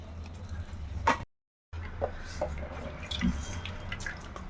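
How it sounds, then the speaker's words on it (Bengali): Water drips and trickles as soaked soy chunks are squeezed by hand over a bowl in a home kitchen. The small, faint splashes are close, with one brief dropout in the middle. "এখন সয়াবিনগুলো জল থেকে এইভাবে হাত দিয়ে নিংড়ে নিংড়ে কিন্তু তুলে নেব"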